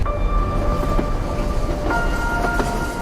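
A locomotive in the Void Train video game rumbles steadily with low, continuous mechanical drone, sustained tonal whine and faint rhythmic clatter, loud and unbroken for a few seconds with no talk.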